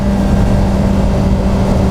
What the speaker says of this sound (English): first gear, engine braking, and you can power out of the corner just like that